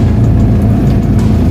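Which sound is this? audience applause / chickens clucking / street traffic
street traffic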